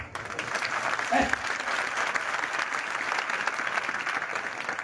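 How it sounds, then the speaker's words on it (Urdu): Steady applause from a church congregation during an Urdu-language sermon, a broad, dense wash of clapping that holds for the full stretch, with a brief voice rising partway through. "تالیاں ماریاں تے کھچ کے مارو"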